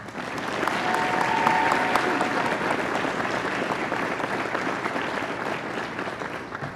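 Audience at a campus awards ceremony applauding medal recipients, a steady dense wash of clapping sustained for several seconds at even loudness, with no voices over it.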